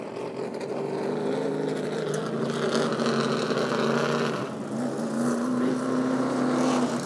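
Late model race cars at Rockford Speedway produce a steady, loud engine drone with wavering pitch that shifts as cars pass, continuous throughout with no talking.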